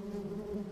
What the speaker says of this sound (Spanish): Moscas, moscas.